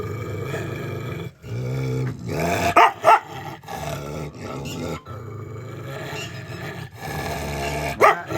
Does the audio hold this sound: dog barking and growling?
yes